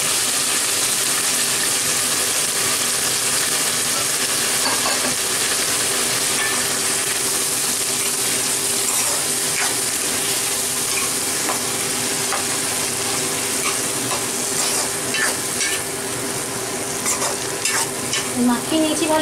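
Onion, tomato and garlic pastes fry in a pan while being stirred and mixed, giving a loud, close, continuous sizzle with scraping and a few louder bubbling bursts toward the end.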